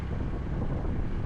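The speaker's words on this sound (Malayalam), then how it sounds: "കാറ്റടിക്കുമായിരിക്കും." Wind gusting hard against the microphone in a forest area that had caught fire near Bangalore, a steady close rumbling buffet with no talking.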